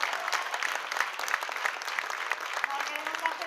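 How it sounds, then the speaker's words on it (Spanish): Audience applause at a music conference event, a dense, steady wash of many hands clapping that carries on without a break throughout. "¡Aplausos! ¡Aplausos!"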